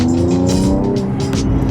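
Mercedes-AMG E53 Coupe at full temperature, its engine loud and close with a sustained tone and rapid crackles and pops from the exhaust over 1.7 seconds, no speech.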